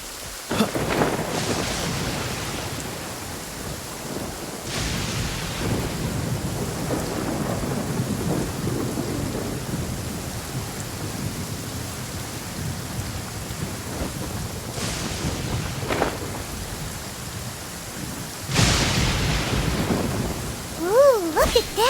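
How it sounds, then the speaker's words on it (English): Rain and thunder in the video game Genshin Impact: steady rainfall hiss with several rumbling thunderclaps swelling and fading, fairly loud, with brief game effect chimes near the end. "Cryo is always far more effective in the rain."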